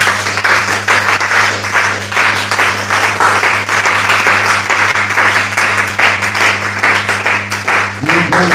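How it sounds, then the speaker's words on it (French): Church congregation at a French-language service cheering and applauding, a dense continuous wash of clapping and voices throughout, loud and close, with a steady low hum underneath. "Les gens acclament comme s'ils sont malades."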